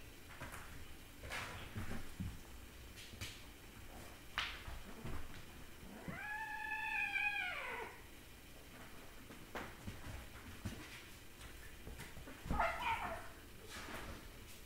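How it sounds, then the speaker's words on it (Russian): Kittens give one drawn-out, wavering meow near the middle and a short squeak later on, both faint and close amid quiet room noise and scattered soft knocks. "Я котят снимаю."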